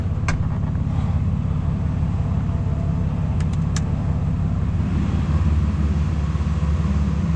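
A supercharged Mitsubishi Pajero engine idles on a dyno with a steady low rumble, running lean, close and continuous, with a few faint clicks in the background.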